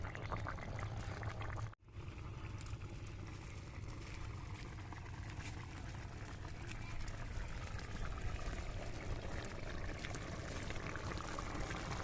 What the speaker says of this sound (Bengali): মাছ দিয়ে আমি আর তিন মিনিটের মতন এভাবে ফুটিয়ে নেব